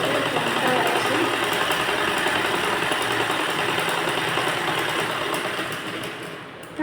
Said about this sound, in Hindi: अब हम यहाँ से चौड़ाई से इसको फोल्ड करके इस तरह से सिल लेंगे। एक सिलाई लगाएंगे हम